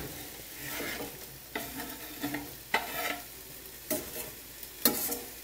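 Apples cook in a pan with quinoa, sausage, onions and garlic, a steady sizzle carrying repeated stirring scrapes and clicks at an uneven pace, close and fairly quiet.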